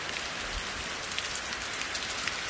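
Steady rain falls at a rural farm property in late afternoon, a dense, even hiss of drops hitting the ground and surfaces, continuous and close with no voices.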